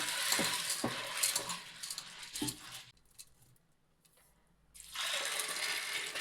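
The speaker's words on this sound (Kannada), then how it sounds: "ಒಂದು ಕುಕ್ಕರ್ಗೆ ಹಾಕಿ ಚೆನ್ನಾಗಿ ತೊಳಿಬೇಕು" Water swishes and sloshes in a metal pressure cooker as lentils are rinsed, with clinks against the sides, a brief pause, then more splashing.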